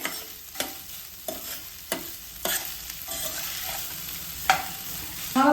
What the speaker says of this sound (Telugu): సాల్ట్ యాడ్ చేసుకొని ఒకసారి కలుపుకోవడమే